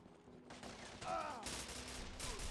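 Gunfire in the action game Devil's Third comes as a dense, continuous burst of rapid shots with a rough, noisy texture, steady and fairly loud across the whole moment, with no talking over it.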